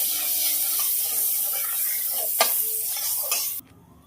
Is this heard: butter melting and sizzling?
yes